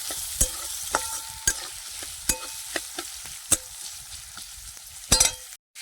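Onion frying until golden brown in a pan on a wood-fired stove, a steady soft sizzle broken by regular sharp scrapes and clinks of stirring, close and with no voices.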